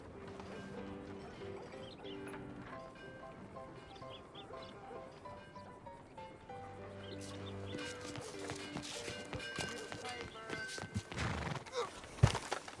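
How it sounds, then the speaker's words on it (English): Horse in Red Dead Redemption 2 whinnying and snorting, with clip-clop of hooves and a rooster or birds in the background, moderately quiet throughout. "Get on your horse, John."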